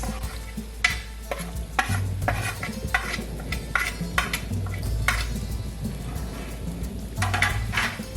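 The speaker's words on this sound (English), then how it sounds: "I'm just going to give this a quick mix." Fish pieces stirred on a tawa into a pineapple salsa blended with garlic, sugar and red chilli flakes: a steady run of spoon scrapes and clinks over a gentle sizzle, with no talk.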